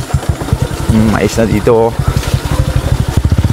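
A motorcycle engine putters with a rapid, pulsing rhythm while riding along a rough track, loud and close, with someone speaking briefly over it.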